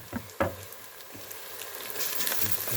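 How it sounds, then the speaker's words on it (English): Soft sizzling of onions and garlic frying in a pan, quiet at first with a couple of knocks, then a fuller hiss building toward the end. "My onion is frying off"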